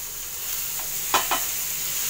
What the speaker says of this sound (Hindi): बस तेज आंच दे उत्ते ही आपां ने इहनूं सौते करना है।